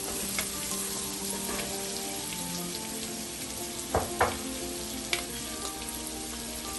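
Sliced onions with habaneros fry in a pan for Nigerian fried rice, a steady close hiss and crackle throughout, with a few soft scraping stirs and clinks near the end.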